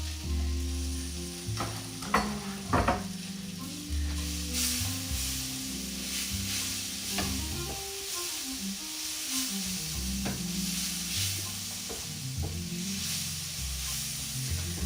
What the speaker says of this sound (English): I'm gonna add the spring onions now